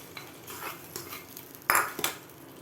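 A spoon stirs ven pongal with cashews in a pot, giving soft scraping and a few sharp metallic clinks against the pot, quiet and close, with no talk.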